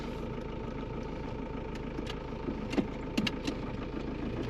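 A camper van's engine idles with a low, steady rumble, fairly quiet, with a few light rattles and clicks over the top.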